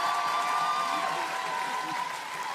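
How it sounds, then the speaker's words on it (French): Applause from a standing audience after a live televised song performance, a loud continuous patter of clapping that lingers evenly over the short span, with a voice talking over it. "qu'on peut encore applaudir, s'il vous plaît."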